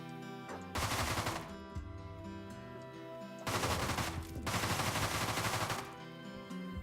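Gunfire in the zombie shooter game Deadbolt: two long bursts of loud, rapid automatic shots, separated by a short gap, over a quiet game music bed.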